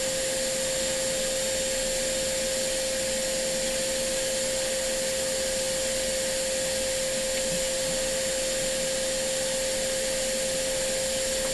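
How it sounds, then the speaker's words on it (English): An expensive ESD-safe vacuum cleaner runs at full power, a loud, constant motor whine with a steady rushing airflow and a thin high tone throughout. "This is a very expensive, fancy pants ESD safe vacuum cleaner."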